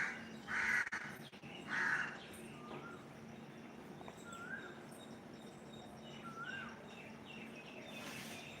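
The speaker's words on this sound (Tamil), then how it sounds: "காக்கா காக்கா காக்கா" Crows caw outdoors, with two loud, harsh caws close by near the start followed by fainter calls and chirps further off over quiet ambient background.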